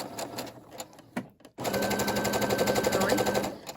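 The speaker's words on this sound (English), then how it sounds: "And then we're going to start on a back stitch." A Brother SE600 sewing machine running a back stitch on a fabric scrunchie, with a few scattered clicks first, then a steady, loud, fast mechanical whir and rapid needle chatter that holds close up for the rest of the clip.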